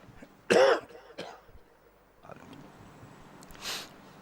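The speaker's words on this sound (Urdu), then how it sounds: "ایک دم کھانسی آ جاتی ہے" One sharp cough, then a couple of softer throat sounds and a later faint cough in a quiet room during a religious gathering at an imambargah.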